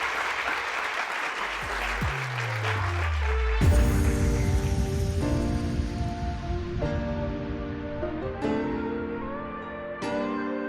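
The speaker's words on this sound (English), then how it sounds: "Everyone, give them a big clap." An audience claps for artists at an art talk. Applause swells and holds for several seconds with a few sharper peaks over a lingering low tone.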